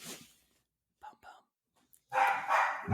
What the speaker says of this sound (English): You hear my dogs getting in at the last minute?